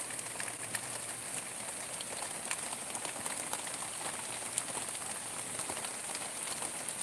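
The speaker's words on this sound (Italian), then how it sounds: "è arrivata la pioggia" Heavy night rain falls in Salerno, Italy as a soft, steady hiss of drops on surfaces, faint and distant, with scattered small patters and a faint high electrical whine running throughout.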